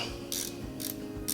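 Ratchet wrench clicking as it tightens a jam nut on a dirt bike wheel, three short bursts of bright ratcheting spaced about half a second apart, close and fairly quiet over a low steady background hum.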